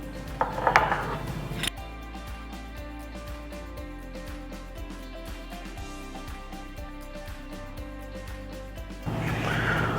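Metal screw caps are hand-tightened onto glass canning jars of smoked wild Alaskan sockeye salmon, giving a run of small, close, rhythmic clicks and ratcheting scrapes over a steady background hum.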